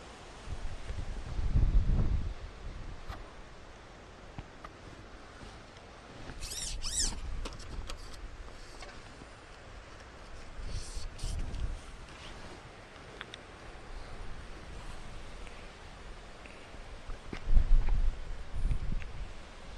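Gusty wind buffeting outdoors at a fishing pool on a farm, rumbling in uneven surges with a few louder blasts, steady rustling underneath and faint small clicks.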